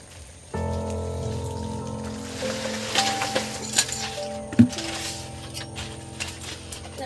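Water is poured into an egg tadka gravy in a pan on the stove, starting with a sudden wet rush that continues steadily, with a few soft clinks and splashes near the end.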